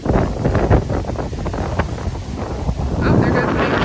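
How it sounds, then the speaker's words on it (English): Strong gusty wind buffets the microphone outdoors on a front walkway during fall cleanup, a loud rushing roar that swells and eases, with a voice faintly mixed in. "It's really windy out here"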